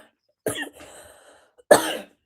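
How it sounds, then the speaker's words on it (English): Two short, close coughs separated by a pause of about a second, in a quiet indoor room. "A little cough."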